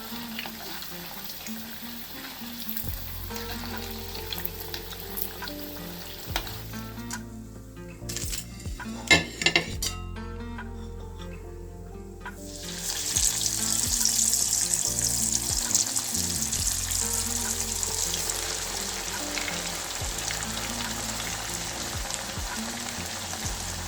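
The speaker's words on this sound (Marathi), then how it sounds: "थोडे लालसर कलरवर तळून घ्यायचे, जास्त ब्राऊन करायचे नाही." Bread rolls fry in hot oil until light reddish, giving a steady close sizzle and bubbling with occasional clinks of a utensil against the pan, the sizzling swelling louder partway through.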